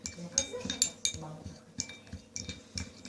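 Metal spoon clinks and scrapes against a small bowl while stirring ground cumin with olive oil and agarwood oil, a series of light, irregular taps and clinks close up, with a faint voice in the background.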